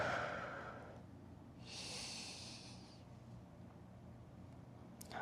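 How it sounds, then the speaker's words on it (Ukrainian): Slow, deep breathing during a posture and back-mobility exercise session, with an audible inhale followed by a softer, longer exhale, close and without talk. "Затримуємося та робимо вдих, глибокий вдих і видих."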